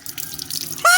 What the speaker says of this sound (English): We have water coming out of a faucet into the house.